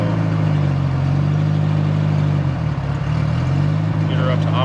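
A Honda Civic engine idles steadily while warming up before a drive, a loud, close, continuous low hum with a brief dip in the middle, and a voice talks over it.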